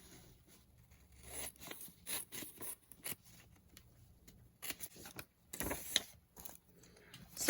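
Scissors snip through fabric while a no-sew DIY face mask is cut out, giving a run of short, close, crisp cuts and rustles at an irregular pace with quiet gaps between them.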